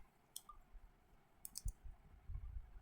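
Sharp mouse clicks on a computer dashboard, a few brief faint clicks spaced apart against a quiet background.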